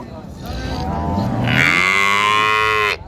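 A dairy cow at Raniganj cattle market in Dinajpur gives one long, loud, close moo that rises and holds for about three seconds before cutting off.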